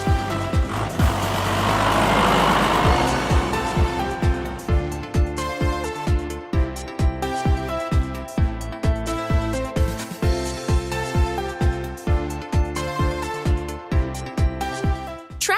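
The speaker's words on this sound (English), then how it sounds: "Pottinger tractor." A Pöttinger farm tractor engine runs loudly and close, with a broad roar at first that settles into a rhythmic, pulsing chug with regular mechanical knocks for the rest of the stretch.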